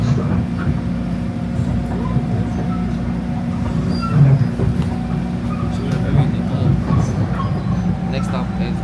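Interior of a moving passenger train heading to the next station, a steady low rumble and hum with rattles throughout, with a voice speaking over it.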